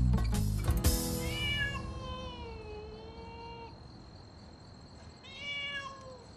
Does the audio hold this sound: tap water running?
no